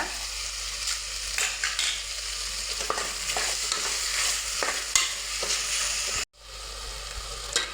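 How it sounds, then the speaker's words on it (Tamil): Tomatoes sauté with salt in a pan for a millet (thinai) vegetable biryani. A soft, steady sizzle runs under frequent scraping stirs, close and fairly quiet, then briefly cuts out before resuming. "கொஞ்சமாக உப்பு சேர்க்குறேன் தக்காளி வதங்கிறதுக்காக"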